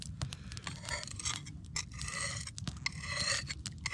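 A chipped axe blade being sharpened with a whetstone outdoors, giving a steady run of gritty rasping scrapes with brief sharper strokes, close and continuous with no talking.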